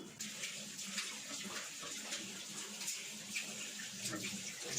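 Running tap water splashes steadily while someone washes items during bathroom cleaning, a soft continuous trickle with faint clinks and knocks, fairly quiet and without talk.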